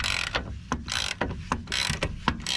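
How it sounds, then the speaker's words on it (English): Ratchet with a 24mm socket loosening the front suspension strut nut on a Peugeot 407 SW, rapid clicking pawl bursts alternating with short sharp back-strokes, close and loud, no speech. "you're going to be using a ratchet with 24mm head on it just to loosen it up a little bit"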